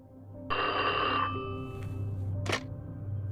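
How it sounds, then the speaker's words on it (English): A telephone in a hotel room rings with a bright electronic bell tone for about a second, close and clear, followed by a short clatter as it seems to be picked up. "the phone rang almost immediately"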